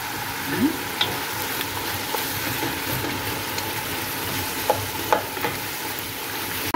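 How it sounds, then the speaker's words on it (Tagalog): Fish sauce simmering in a pot, giving a steady low bubbling sizzle throughout with a few faint clinks, no talking. "Kumukulo na nga ang ating fish sauce."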